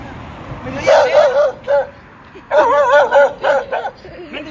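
A dog barks and yips in two short bursts of several rapid, fairly close calls, with a gap between them and soft background noise throughout.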